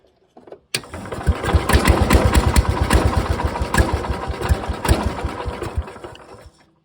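A small lawn tractor engine, a Cub Cadet, cranks over in a steady, rapid chugging rhythm for several seconds, loud and close, then cuts off without catching.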